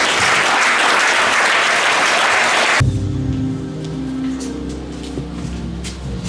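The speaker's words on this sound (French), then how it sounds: "Acclamons très fort." Loud, dense applause from a church congregation fills the first few seconds, then breaks off abruptly into a quieter room with low murmuring and faint sounds.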